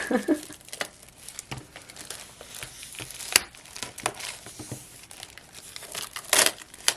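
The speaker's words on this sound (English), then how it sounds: "let's go ahead and get this one open here and take the plastic off" Plastic shrink wrap is crinkled and torn off a new adult coloring book, close irregular rustling and crackling with sharp tearing bursts throughout, no talk.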